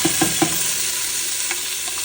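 Tomato, onion and jalapeno frying in hot oil, a steady broadband sizzle throughout with a few stirring scrapes near the start and one more later, close and alone without talk.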